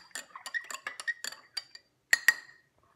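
A spoon clinks quickly and unevenly against the inside of a cup while stirring cold brew coffee concentrate with water, ending with two sharper, louder chimes close by.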